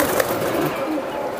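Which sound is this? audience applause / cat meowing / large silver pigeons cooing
large silver pigeons cooing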